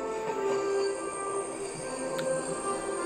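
A train rolls along in an Oculus Go VR experience, giving a steady, continuous rumble with a sustained high wheel squeal and ringing tones and no voices.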